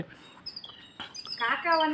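House sparrows squabbling over scattered rice give short chirps that build into a busy burst of overlapping tweets near the end. A voice talks faintly over them.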